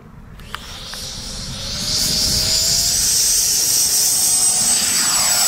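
An RC model Hawker Sea Hawk jet on its maiden flight, its turbine rising into a loud, steady high-pitched whine and roar that swells and holds, with a faint click at the start.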